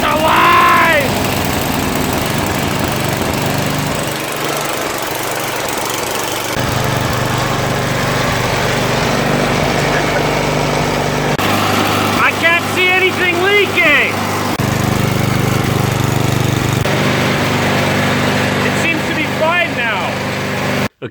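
A small snowblower engine runs steadily throughout, a continuous loud drone with some revving changes, and a voice speaks briefly over it in a few spots.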